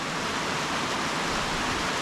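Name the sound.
waterfalls along Otter Creek on the Mason-Dixon Trail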